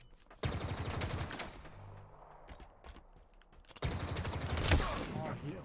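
Gunfire in the video game Halo Infinite: dense bursts of automatic shots crackle close and loud in two long stretches, with a quieter gap of scattered single shots and mechanical clatter between them.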